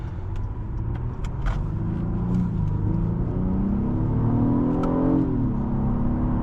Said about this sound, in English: I love the sound of this V6